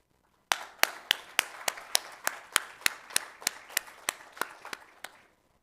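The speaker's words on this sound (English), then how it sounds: "I think I would like to have a final round of applause for all 5 pitches." A workshop audience claps for a round of pitches, giving a run of about eighteen distinct, evenly spaced claps over roughly five seconds that sound sparse and fairly close, with no voices over them.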